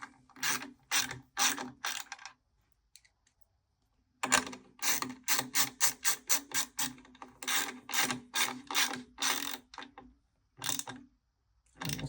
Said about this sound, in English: Using the same 10mm socket, we're just going to screw these into the BMS.